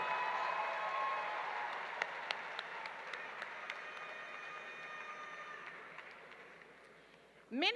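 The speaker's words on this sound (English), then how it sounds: "Let's give them a round of applause." Applause from a graduation ceremony audience for the class of 2019 at CSKYWLA and B.E.S.T. Academy, a steady wash of many hands with a few sharper claps standing out, slowly thinning toward the end.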